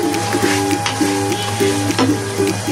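Potatoes fry in hot oil for beef biryani, a constant crackling sizzle with faint stirring, while a repeating electronic beep pulses steadily in the background.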